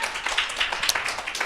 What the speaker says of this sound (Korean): 박수 한번 부탁드릴게요.